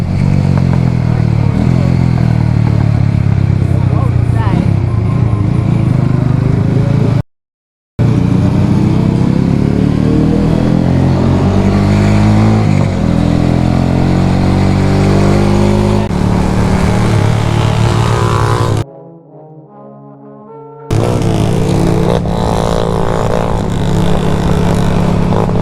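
Motorcycle engine revving loudly and close, rising and falling in pitch through the clip with two brief dropouts, no talk over it.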